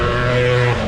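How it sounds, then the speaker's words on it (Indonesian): A motorbike passes close by on a city street near a petrol station and traffic light in Padang, a loud, steady engine drone filling the whole moment. "Oh, ada motor ya, kurang dengar mungkin."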